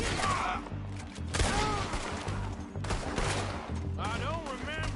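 Gunfire in the open-world western game Red Dead Redemption 2: repeated sharp shot bursts and crackling volleys that rise and fall over a steady background, with characters talking between and over the shots.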